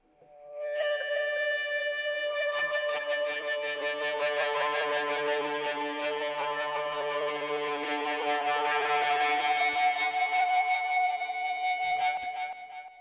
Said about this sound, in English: So I just did some improvisation using the Ebo, and then I put some reverb on there.